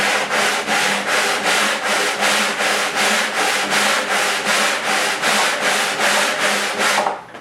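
A wooden disc for guitar building is flattened by hand sanding, a loud close rasping rub repeating in an even rhythm of roughly two strokes per second that continues steadily before stopping, with no speech.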